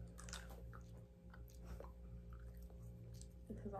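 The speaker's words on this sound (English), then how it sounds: "So you can chew this one." Soft, close chewing of a Bean Boozled jelly bean, quiet wet bites and crunches scattered through, with faint breathy noises and a little background hum.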